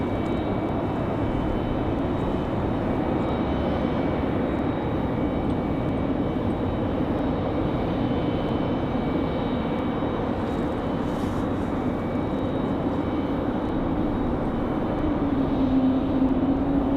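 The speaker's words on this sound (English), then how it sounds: "Sounds like we got an A220 on the move. That might be the JetBlue A220." JetBlue Airbus A220 jet moving around Raleigh-Durham airport in wind, a low, even engine rumble that continues unbroken and moderately loud throughout, with no one speaking.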